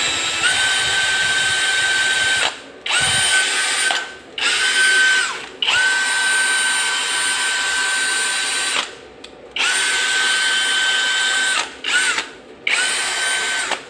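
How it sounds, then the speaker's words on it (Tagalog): A Lotus 20V max brushless impact driver runs in several bursts of a few seconds each. Its high, steady motor whine is loud and close and stops abruptly between short silent pauses. "So ito yung impact driver."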